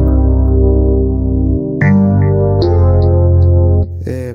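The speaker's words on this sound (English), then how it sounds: "e-piano, an electric piano from Lounge Lizard" Lounge Lizard electric piano playing sustained chords over a deep bass line in an Amapiano beat, several chord changes ringing out clearly and alone, with no voices.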